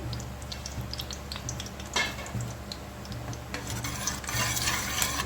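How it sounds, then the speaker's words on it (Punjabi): Ingredients roasting in ghee in a pan, a steady soft sizzle with faint crackles and ticks that grow busier toward the end, close and alone without speech. "ਇਸ ਨੂੰ ਆਪਾਂ ਘੇ ਦੇ ਵਿੱਚ ਭੁੰਨਾਂਗੇ ਤੇ ਇਹ ਦੇਖੋ ਫੁੱਲਣੀ ਸ਼ੁਰੂ ਹੋ ਗਈ"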